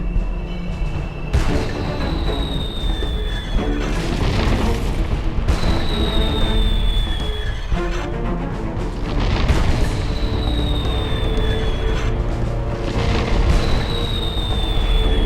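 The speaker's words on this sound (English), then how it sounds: "I need to use the cannon and clear a path through the ice." Ship cannon in the BackStab video game fires repeatedly to blast through ice: a steady run of loud, heavy booms about every two seconds, each trailed by a falling whistle over constant rumbling background noise.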